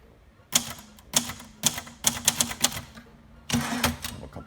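A 1969 Royal Mustang (Silver-Seiko) manual typewriter is typed on nearby: crisp individual keystrokes arrive in quick irregular clusters, ending in a dense rapid flurry of clacks.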